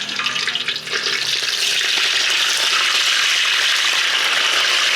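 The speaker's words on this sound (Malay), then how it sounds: "Kita goreng sehingga dia golden brown" Loud, close sizzle of pandan chicken frying in hot oil, building quickly from a few pops into a dense, steady crackle.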